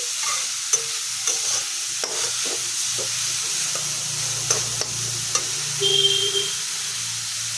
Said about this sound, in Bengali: পেঁপেগুলো দিয়ে একটু নাড়াচাড়া করে নিচ্ছি।